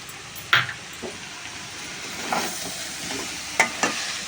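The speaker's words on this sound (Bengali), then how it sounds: "এটা ভালো করে এখন মেশাতে হবে যতক্ষণ না এই সবজি এই মানে বাঁধাকপিটা নরম হচ্ছে" Cabbage frying in plenty of oil with sugar is stirred in a pan, giving a steady sizzle broken by a few sharp scrapes and clacks of the spoon.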